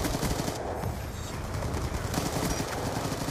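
AN-94 assault rifle firing in Call of Duty: Black Ops multiplayer on the Slums map, a dense stream of rapid automatic shots running through the whole stretch amid constant in-game battle noise.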